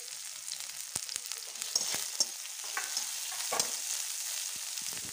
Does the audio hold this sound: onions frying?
yes